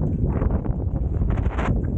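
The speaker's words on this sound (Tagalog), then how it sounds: "Lumakas ang hangin" Strong seaside wind in Tuscany buffets the microphone in rumbling, gusty surges, a constant low roar with rising and falling bursts.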